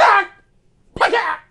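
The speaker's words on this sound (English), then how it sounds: "This is just a brand new cough." A person coughs twice, close and loud, two short harsh bursts separated by a brief pause.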